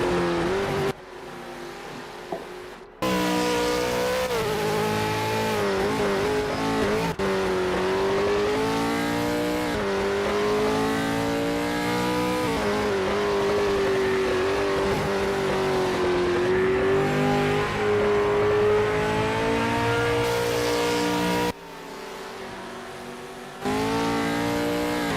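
Race cars in a racing video game, with one engine droning steadily close up and its pitch rising and falling through gear changes and revs, almost unbroken for over twenty seconds.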